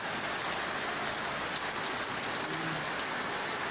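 Steady, dense rainfall hissing continuously, a constant wash of drops falling on surfaces nearby with no other sounds standing out.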